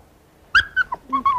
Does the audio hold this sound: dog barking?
yes